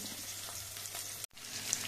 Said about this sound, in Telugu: దంచిన ఎల్లిపాయలను తీసుకొని తాలింపులో వేసుకోవాలి.